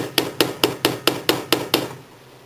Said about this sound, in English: start hammering these spirals. Use the flat part of your hammer.